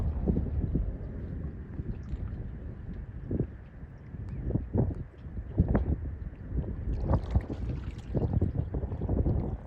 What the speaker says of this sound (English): Try to keep the wind from affecting the sound. Got a nice little breeze behind us.